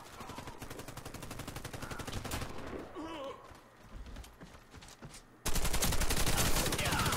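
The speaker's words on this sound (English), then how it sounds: "He's got a fast fire rate gun." Rapid automatic gunfire from a fast-firing weapon in the online shooter Warface on a farm map, dense bursts of shots running through most of the stretch and swelling louder near the end, with voices over it.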